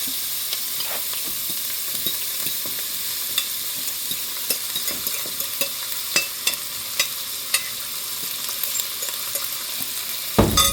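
Ground meat for a meat pie sizzles steadily in a pan, with a spoon scraping and stirring at an irregular rhythm and a louder clatter at the very end; close and fairly loud, no talking.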